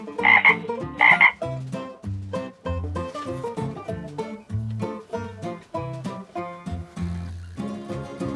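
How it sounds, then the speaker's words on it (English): Frog croaking in a series of deep, throaty croaks, beginning with two loud bursts and continuing as a steady rhythmic chorus of closely spaced calls, alone with no talk. "Frog."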